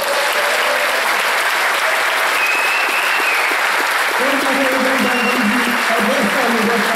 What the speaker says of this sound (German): Vielen Dank für Ihren Applaus.